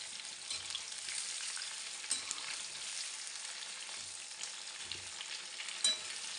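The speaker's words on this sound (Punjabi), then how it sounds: "ਲੋ ਜੀ ਇਹਨਾਂ ਨੂੰ ਉਨੀ ਦੇਰ ਤੱਕ ਆਪਾਂ ਪਕਾਉਂਦੇ ਰਹਾਂਗੇ ਜਿੰਨੀ ਦੇਰ ਤੱਕ ਆਪਣੇ ਬੈਂਗਣ ਫਰਾਈ ਨਹੀਂ ਹੋ ਜਾਂਦੇ" Eggplant slices frying in oil give off a continuous close sizzle and crackle, with a few soft stirring knocks here and there.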